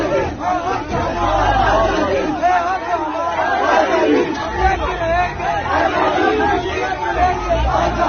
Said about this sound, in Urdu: یہ پریزنر وین کے اندر سے عمران خان زندہ باد کے نعرے لگا رہے ہیں